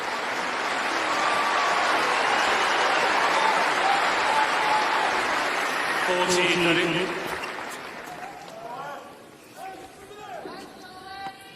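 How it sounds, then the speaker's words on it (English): Sustained, dense crowd applause at a tennis final in a stadium, loud and steady for several seconds before thinning out, with voices and scattered noises emerging as it fades. "The respect that was coming out of that applause."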